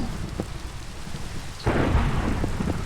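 A thunderstorm in the Pixelmon Minecraft mod, with rain falling throughout and a sudden loud thunder crack and rumble breaking in partway through.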